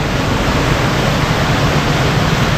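Loud, steady roar of the Tarlac River's floodwater current surging past near Aquino Bridge in Tarlac City, a dense unbroken rush that fills the whole stretch with no pauses.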